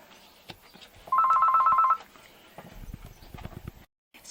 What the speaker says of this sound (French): Excusez-moi pour le coup de téléphone, c'était assez important.